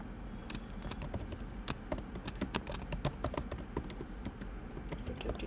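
A computer keyboard being typed on at a steady pace to enter a security group name, a quick run of light close key clicks with a few brief pauses.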